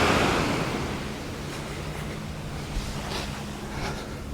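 Ocean surf rolling onto Bang Tao Beach in Phuket, Thailand, a steady wash of breaking waves with soft swells rising and falling, mixed with some wind buffeting the microphone, no voices.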